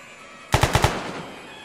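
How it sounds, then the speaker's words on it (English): Four rapid gunshots ring out in quick succession during a DayZ Standalone match, loud and close with a short reverberant tail after the burst. "I hear more gunfire."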